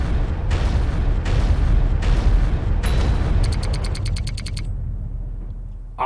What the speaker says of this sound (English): So you can only get to it by artillery strikes.